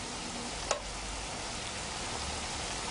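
Peaches cooking in a pan, a steady, soft sizzle and bubbling that holds evenly throughout, with one brief faint tap near the start.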